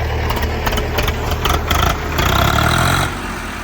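A Swaraj 855 tractor offered for sale idles with a steady, close mid-range engine rumble that swells slightly near the end before settling back, with no talking over it.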